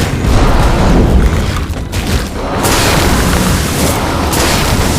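A loud, sustained explosive roar of a self-destruct blast in the video game Magicka fills the clip, rumbling heavily with a brief dip before surging again.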